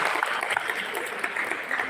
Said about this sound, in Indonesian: Boleh saya dengar tepuk tangan semangatnya?